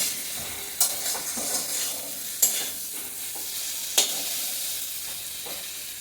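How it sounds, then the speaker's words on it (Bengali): Taro and spices are stir-fried in a pan with a constant low sizzle, broken by a few sharp spatula scrapes and knocks against the pan at irregular intervals. "লোয়ার কাটি কচু মশলার সাথে ভালো লাল লাল করে একদম কষিয়ে নিলাম।"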